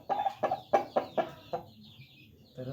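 A Bangkok rooster clucks in a run of six sharp, evenly spaced calls that gradually fade, followed by a short pause and a lower cluck at the end, close and clear with no talking.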